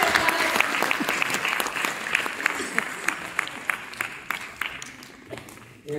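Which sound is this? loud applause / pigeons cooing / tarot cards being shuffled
loud applause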